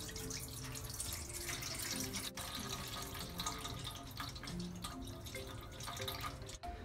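Clear water being poured off the top of fermented flour batter for hand-made Shaanxi liangpi, a continuous splashing, trickling flow close by with no talk.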